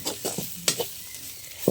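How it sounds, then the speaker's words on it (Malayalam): Liver cooked with garam masala and ground pepper is stirred in a pan over a wood-fired stove, giving soft intermittent scraping strokes and brief sizzles at low volume, with no talking. "അത് കഴിഞ്ഞിട്ട് നമ്മൾ ലിവർ തട്ടി നന്നായി ഇളക്കി യോജിപ്പിക്കുകയാണ്."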